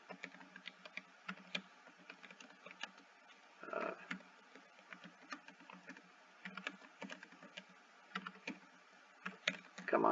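Quiet, irregular tapping of keys on a computer keyboard, clicks coming in quick bursts and short pauses, close by.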